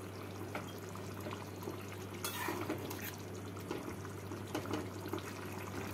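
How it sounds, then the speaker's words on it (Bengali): Tangra fish being stirred into a tomato curry gravy in a pan, soft wet sloshing and scraping over a steady low hum, fairly quiet. "মাছগুলোকে দিয়ে ঝোলের সাথে নাড়াচাড়া করে নেব।"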